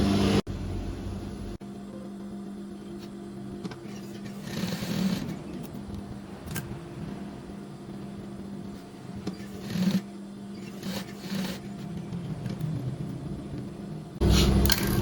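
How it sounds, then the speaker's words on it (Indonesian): Sewing machine stitching a fabric neck facing, a steady mechanical hum with faint rhythmic needle ticks running continuously for about fifteen seconds, close by and alone with no talk. "Bagian sini kita jahit. Oke, ini akan saya jahit."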